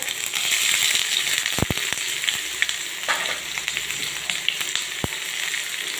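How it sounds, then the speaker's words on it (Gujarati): Ginger and garlic frying in hot oil, a dense, loud, steady sizzle filling the whole span, broken by a few sharp clicks of a spoon against the pan. "તેલ ગરમ થઈ ગયું છે. આદુ લસણ નાખીશું."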